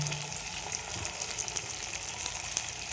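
Capsicum sizzles in hot oil in a frying pan while cauliflower is being cooked, a continuous close crackling hiss with faint stirring underneath.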